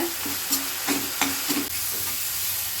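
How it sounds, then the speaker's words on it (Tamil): Onions and tomatoes sautéing in a pan, a steady sizzle with a few light spatula scrapes spaced across a short stretch, no talking. "வெங்காயம் தக்காளி இந்த அளவுக்கு நம்மளுக்கு வதக்கியாச்சுங்க"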